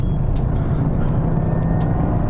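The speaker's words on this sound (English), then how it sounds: "These low profile tyres, they're just not very good for quietness." Inside a 2021 Toyota GR Yaris with a 3-cylinder 1.6 turbo engine, low-profile tyres produce a loud, constant low road roar that fills the cabin without pause or talk.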